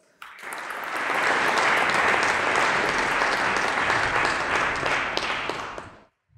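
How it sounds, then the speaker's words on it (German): A large conference audience breaks into loud, dense applause for a speaker coming on stage, starting abruptly, holding steady for several seconds of many hands clapping, then cutting off. "Herzlich willkommen mit einem großen Applaus,"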